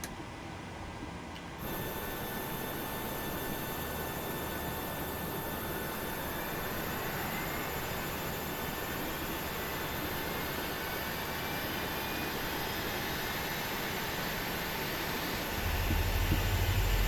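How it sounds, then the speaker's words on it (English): Engine number 1 of a Boeing 737-600 spools up in a flight simulator, a steady rising whine with faint tonal hum that holds evenly, then grows louder near the end. "So starting engine number 1."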